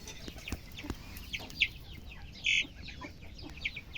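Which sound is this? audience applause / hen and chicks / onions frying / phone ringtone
hen and chicks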